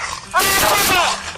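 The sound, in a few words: police dog barking during arrest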